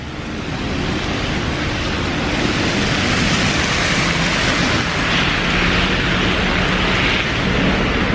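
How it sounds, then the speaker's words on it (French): Heavy rain pours down in Tokyo as a dense, steady roar of broadband noise, loud and continuous throughout with no voices. "Il pleut exagéré."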